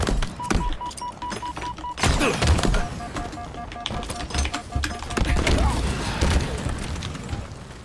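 A grenade blast in the Halo shooter game, a loud booming thump landing among sharp in-game effects, beeps and rapid combat noises, with a deep low rumble following.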